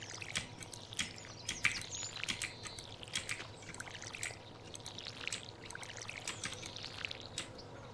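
Watering can refilled in the Stardew Valley video game, a soft, steady trickle and pour of water with small bird chirps scattered over it, fairly quiet throughout.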